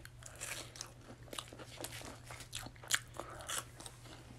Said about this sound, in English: you still get a crunch.